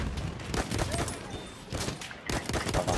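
Rapid gunfire from the World War I shooter Battlefield 1 crackles in several dense bursts, with overlapping shots and distant booms filling the battle scene.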